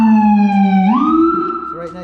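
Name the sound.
Whelen Core siren wail tone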